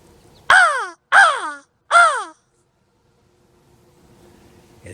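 Crows in Hoosier National Forest give three loud, clear caws in an even rhythm, close by, followed by near silence with faint background hiss.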